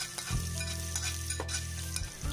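Chopped capsicum and carrot sauté over a medium flame for restaurant-style fried rice, giving a steady, close sizzle that runs throughout with a low hum beneath it.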